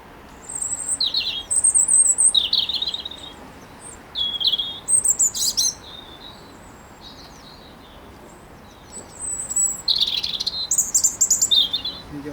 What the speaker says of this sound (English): The old birds going in the background now.